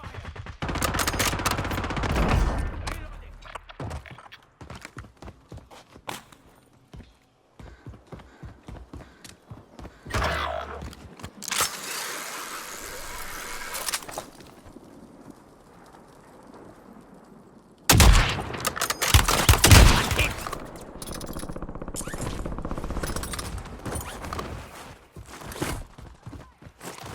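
Gunfire in the battle royale game Warzone: loud bursts of automatic fire and volleys in clusters across the span, with quieter mechanical clicks and reload sounds in the lulls and a heavy burst late on.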